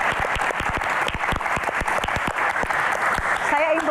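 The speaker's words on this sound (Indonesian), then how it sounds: "Tepuk tangan untuk Sumatera." An audience at an indoor Q&A event in Indonesia claps steadily, dense and loud throughout, with a voice briefly audible in Indonesian over the clapping near the end.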